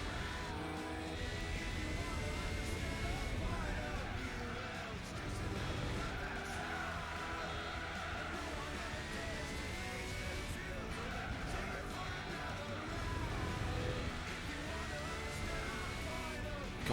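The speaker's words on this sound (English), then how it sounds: "God, the sound of this car is great." Race car engine in the Gran Turismo 4 video game: a continuous revving roar with rising and falling gear-shift whines and occasional tire squeal, steady and loud, with a voice talking over it at times.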